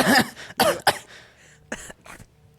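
A man coughs several times in short, sharp bursts close to the microphone, the fits separated by brief pauses, with a couple of fainter coughs following at the end.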